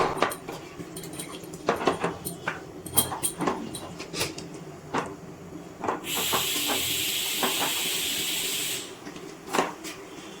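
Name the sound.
milk with raw papaya simmering on gas stove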